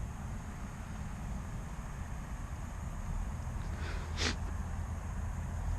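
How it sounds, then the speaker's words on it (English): A single short, sharp sniff from a person standing outdoors in freezing cold at sunrise near Avebury, heard close over a steady background hiss of wind and ambient noise. "I keep sniffing, I do apologise"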